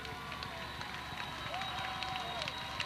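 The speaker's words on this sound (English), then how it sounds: "This big Mount Vernon crowd, they're on their feet, making some noise" A big Mount Vernon home crowd at a high school basketball game against O'Fallon stands and roars, giving a steady, dense wall of cheering and noise. A commentator talks over it.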